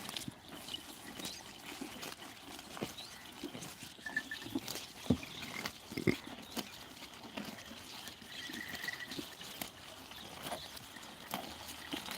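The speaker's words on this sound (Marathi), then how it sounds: "बैल उसाचं वाड खातोय" A bull chews sugarcane fodder up close, giving steady crunching and rustling with scattered sharper snaps and a few brief clicks.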